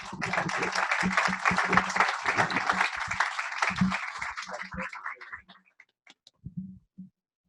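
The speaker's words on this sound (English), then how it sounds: "I would just like to give a round of applause for these guys" Audience clapping at a leadership academy event in New York City, a dense round of applause lasting several seconds before thinning out to a few scattered claps, with a voice speaking over it.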